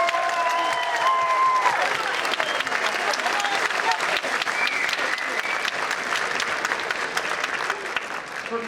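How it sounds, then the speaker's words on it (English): Middle school concert audience gives a big round of applause for the grade 7 band, a dense, steady burst of clapping that fills the hall and continues without letting up. "So let's give them a big round of applause."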